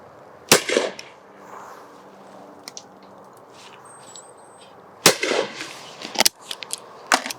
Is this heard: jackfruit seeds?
no